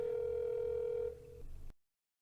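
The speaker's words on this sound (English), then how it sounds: "Thinking of the girl I admired so much, I make the call." A steady phone dial tone from a call in the visual novel First Snow, holding a sustained electronic pitch for about a second before dropping and cutting off into silence.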